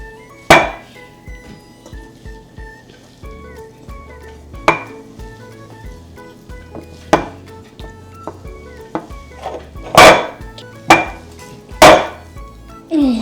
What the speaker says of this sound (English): now it's time for Hamad and then Asya to mix the dough